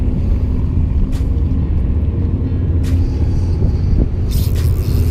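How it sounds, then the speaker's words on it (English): Boat engines on a river near a dam rumble in a continuous low drone that holds steady throughout, loud and close, with a couple of faint higher hisses and no talk. "People in their f***ing engines around this place."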